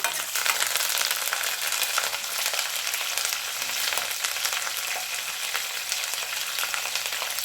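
Curry leaves fry in hot oil for a Telangana-style moong dal tomato curry, giving a steady, dense sizzle and crackle that holds evenly throughout with no voices.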